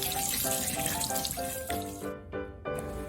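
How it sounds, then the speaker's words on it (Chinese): Steady tap water runs into a sink while pork ribs are rinsed for a pan-fried Cantonese dish, a continuous close splashing with a few brief dips in the flow. "现在可以清洗排骨了"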